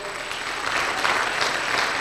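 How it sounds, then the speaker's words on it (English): Applause from a business workshop crowd in Orange Farm for a speaker from a biltong company, many hands clapping in a steady, loud wash that swells slightly. "one more time, a round of applause for Sipho Nkosi from Siga Biltong"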